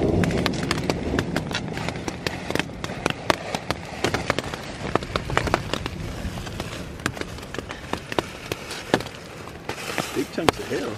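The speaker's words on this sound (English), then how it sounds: "Big chunks of hail." Big chunks of hail falling outdoors in the Eastern Sierra, a dense rapid patter of sharp clicks and taps over a steady wash; voices speak faintly underneath.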